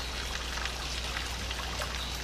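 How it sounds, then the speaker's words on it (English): Water trickles and pours steadily in Fallout 76, a constant close wash of splashing droplets with no voices. "the water trickles down"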